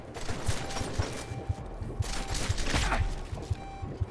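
Pistol gunfire in the Deus Ex: Mankind Divided video game: a regular string of gunshots about twice a second over a dense, noisy battle background, with a burst of louder activity near the middle.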